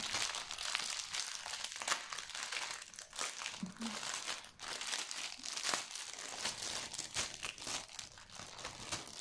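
Plastic packaging around a diamond painting kit crinkles and crumples continuously up close, rustling loudly for several seconds with brief pauses and no talking.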